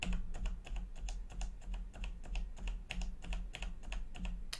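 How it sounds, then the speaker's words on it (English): The W key on a Logitech G910 keyboard with Romer-G switches is pressed over and over in a fast, fairly even rhythm, each press a soft, close click. "Now I'm going to press W on the G910, which has the Roma G key switches."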